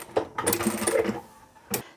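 A sewing machine backstitches fabric for a chemo cap, a short burst of quick mechanical stitching followed by a pause and one brief final whir.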